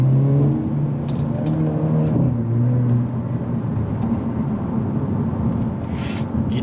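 Exhaust and engine of a Hyundai Avante N being driven, with a steady droning engine tone that rises and shifts pitch during the first seconds, then settles into a continuous cabin rumble with road noise and no talk.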